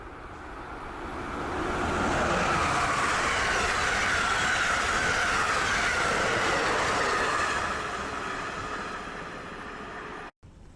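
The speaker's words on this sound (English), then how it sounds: "623 is next with the Carolinian, running south." The southbound Amtrak Carolinian, hauled by ACS-64 electric locomotive 623, roars by at speed with a dense rumble of wheels and rushing air that builds, sustains loudly with faint wheel squeal, then tapers off before a sudden cut.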